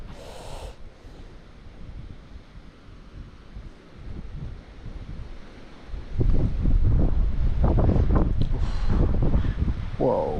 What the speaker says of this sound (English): Whoa, windy, windy